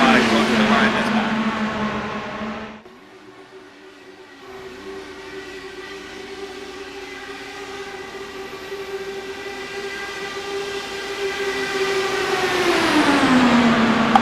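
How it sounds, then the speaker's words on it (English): Racing trucks at Auto Club Speedway pass by, their engines holding a droning pitch that sweeps, dips and rises again as the pack goes around, loud and continuous with a brief quieter gap. "I just love the sound of those cars."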